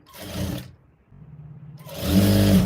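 A sewing machine stitches a blouse in two bursts of steady whirring, the first stopping briefly before a louder, fuller run resumes; a low hum fills the pause between them.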